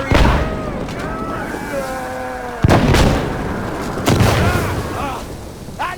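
C4 detonations in Insurgency Sandstorm co-op on the Summit map: a sharp blast lands mid-clip and another follows, over a rumbling battlefield backdrop with shouting voices.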